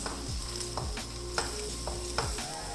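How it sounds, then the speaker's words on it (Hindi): Boiled rice is stirred into ghee in a pan, soft sizzling under repeated scraping strokes of a spoon against the metal, with a faint steady hum behind, close and quiet without speech. "और चावल डालने के बाद हम इसको अच्छी तरह कर लेंगे मिक्स।"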